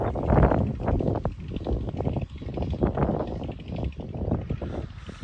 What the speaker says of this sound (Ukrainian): Трошки в нас вітер